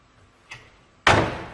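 Door in the dark Aldwych Tube Station slammed shut: a faint knock first, then one loud sharp bang about a second later that rings out and decays in the hollow space.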